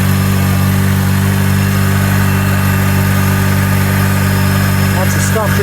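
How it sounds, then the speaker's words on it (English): A 2003 Honda engine with a hunting high idle and a P0507 fault idles loudly and steadily up close, its pitch climbing slightly near the end. "There's the idle going up."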